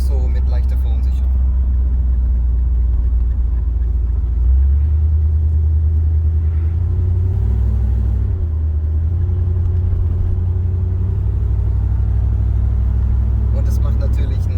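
A Corvette C3 drives along a road, its engine giving a steady, loud low rumble throughout with a brief surge partway through, while a voice seems to talk over it.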